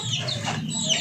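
Pet chickens cluck nearby in a short burst of soft, chirpy fowl calls, with several overlapping notes and no talking.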